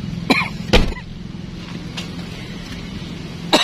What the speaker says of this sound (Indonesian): Batuk bro